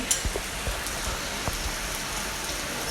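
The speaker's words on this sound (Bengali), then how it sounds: "এই বৃষ্টি আরো জোরে বাড়তেছে" Heavy rain pours down in a dense, steady hiss, with scattered louder drops striking nearby surfaces and no voices.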